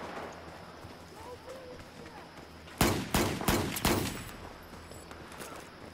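SW40 pistol shots in Battlefield 4: about five loud, sharp reports fired in quick succession midway through, standing out against a quiet hissing background.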